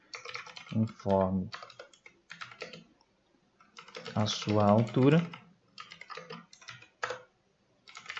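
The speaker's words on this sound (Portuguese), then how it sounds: "vou estar digitando aqui o nosso comando" Bursts of clicky keystrokes on a computer keyboard, typed in short runs with pauses, close and fairly quiet, while someone speaks at times between and over the typing.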